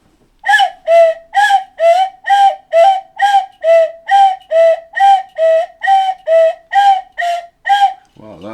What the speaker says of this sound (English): this is a cuckoo whistle